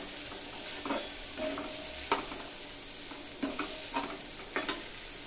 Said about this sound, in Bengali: চিড়াটা দিয়ে এভাবে একটু নেড়ে চেড়ে দিতে হবে